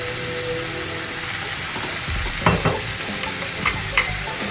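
Beef macaroni with chili sauce stirred in a pan, a dense continuous sizzle with a few spoon scrapes and light knocks in the second half, close and moderately loud, no speech.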